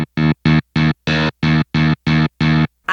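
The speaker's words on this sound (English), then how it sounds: "Let's try and put it for a Marshall and crank the bloody gain up." Rhythmic bursts of heavily distorted Nord Electro 7 stage piano chords through a Marshall amp simulation with high gain, eight or nine even stabs with short gaps, loud, gritty and saturated.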